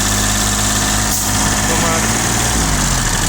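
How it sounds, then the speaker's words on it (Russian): A steady, loud engine rumble drones throughout, a Mitsubishi MT1601 tractor revving close by with a slight shift in pitch near the end. "трактор отлично набирает обороты, также хорошо работает"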